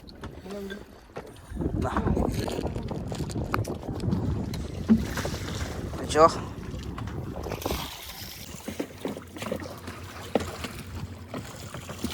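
A fishing boat engine runs steadily at sea in the background, a low continuous rumble with wind and water noise, while people talk over it.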